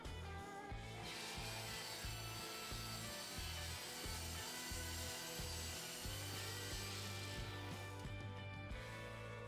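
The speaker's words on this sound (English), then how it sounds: "Cutting thick maple can sometimes bind on the riving knife due to the internal stresses of the wood" Table saw ripping through thick maple for an end-grain cutting board, giving a steady, loud cutting roar with a rhythmic low pulsing underneath that runs unbroken for the whole stretch.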